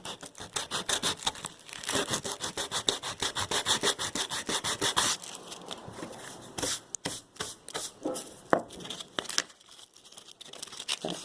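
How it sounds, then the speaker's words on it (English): Steady, rapid back-and-forth rasping of sandpaper on wood, sanding into a crevice, close up, continuous at first and then breaking into shorter, uneven strokes. "just getting in the crevice and sanding it down"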